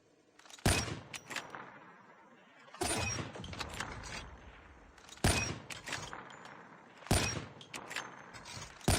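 Sniper rifle shots in a first-person shooter video game, four sharp loud reports spaced a couple of seconds apart, each followed by a decaying echo and bolt-cycling clatter, with faint speech underneath.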